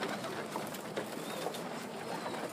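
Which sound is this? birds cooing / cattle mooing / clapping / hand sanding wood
birds cooing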